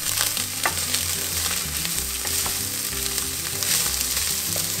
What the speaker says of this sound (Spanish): Y los vamos a freír por alrededor de un minuto.